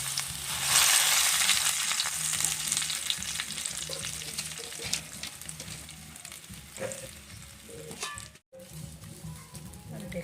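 A tied, leaf-wrapped egg paturi fries in oil in a kadai wok, giving a steady close sizzle with occasional stirring and shifting noises.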